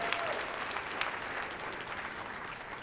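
Steady applause from a comedy convention audience at The Amazing Meeting fills the room, dense clapping sustained and fairly even throughout, heard from within the crowd.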